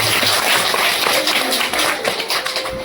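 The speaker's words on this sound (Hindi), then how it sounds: "एक बार जोरदार तालियां।" A seated crowd at a religious discourse gathering at Shiv Shakti Dham in Gyansu, Uttarkashi, claps loudly and steadily, a thick patter of many hands continuing throughout before tapering slightly at the end.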